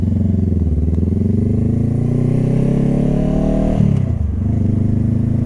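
A motorcycle riding around a campus, engine note rising steadily under acceleration before dropping sharply at a gear shift, then pulling again; loud and close with constant wind and road noise.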